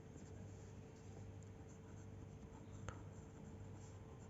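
A pen scratches across paper in faint, continuous strokes, with one sharp tap near the end, no one speaking.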